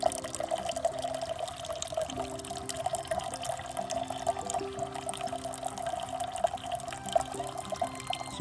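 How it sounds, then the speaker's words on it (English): Water squeezed by hand from a bottle through a Sawyer filter into another bottle on a hike, a steady, fairly quiet trickling flow with no talking. "I'm putting in water, and it depends on how hard I squeeze a bottle, how fast the flow comes out"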